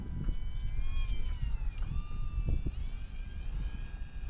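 An E-Flite UMX Air Tractor RC plane flies with a thin, steady electric motor whine that rises and dips in pitch over soft outdoor wind noise.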